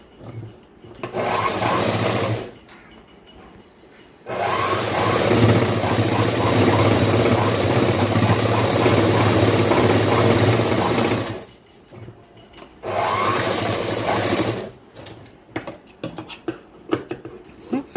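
A sewing machine stitches a boys' school uniform shirt, running in three long steady bursts of whirring needle rhythm separated by brief pauses, close and loud, with a few handling clicks at the end.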